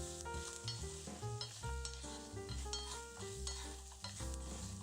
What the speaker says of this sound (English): And then we're just gonna toss in our mushrooms.